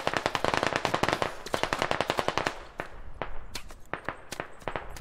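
Rapid automatic gunfire in the tactical shooter Squad Ops rattles in dense, loud bursts, then breaks into scattered single shots and shorter volleys.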